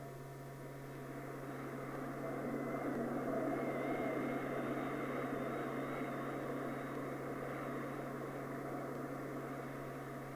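A Ryan Aeronautical target aircraft rolls into a dive, its engine a steady, droning roar with a constant low hum, swelling slightly and holding level with no voices.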